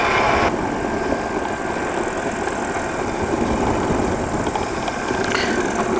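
A PeaBee's engine runs steadily on the foot throttle, giving a loud, continuous droning hum with low vibration that holds at an even level throughout.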